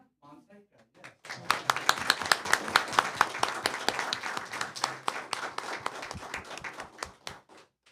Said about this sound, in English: Another round of applause for all of them.